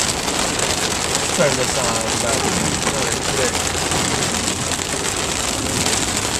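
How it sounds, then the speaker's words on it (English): Heavy rain pours steadily onto a car on a Mississippi road during a lightning storm with hail, a dense constant roar throughout, with a voice speaking briefly over it. "Heavy rain."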